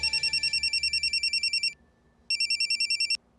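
A phone rings in repeated electronic warbling bursts, one long ring followed by a pause and a shorter second ring, close and clear with no talk over it.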